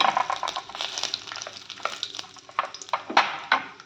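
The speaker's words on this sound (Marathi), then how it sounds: "परतून घ्यायचं आहे लाल मिरच्या हे टाकून घ्यायचे" Red chillies and dal fry in hot oil with a steady close sizzle and crackle, broken by quick spoon scrapes against the pan, with no voices.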